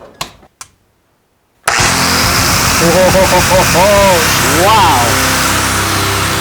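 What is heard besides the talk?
Hercules angle grinder from Harbor Freight running at 11,000 RPM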